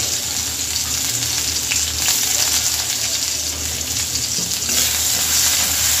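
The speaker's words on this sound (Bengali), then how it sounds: "তেলটা গরম হয়ে গেছে, দিয়ে দেব পেঁয়াজ, আর দিয়ে দেব কাঁচামরিচ।" Onion and green chili hit hot oil in a kadai at the start of a Bengali pumpkin and shrimp curry, giving a loud, steady, unbroken sizzle with no talking over it.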